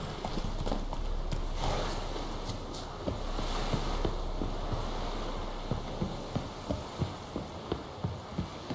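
A horse's hooves clip-clop as it is ridden in The Witcher 3 video game, an outdoor scene. A blurred mix of rumble and ambient noise settles into a clear, evenly spaced gallop of sharp hoof strikes near the end.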